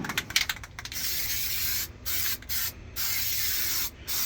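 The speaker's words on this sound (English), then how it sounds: "we are spraying the product so it will seal and it will be waterproof" Sealant is sprayed onto metal shelving inside a Nissan NV2500 high-roof van in short hissing bursts separated by brief pauses, close to the microphone with no talking.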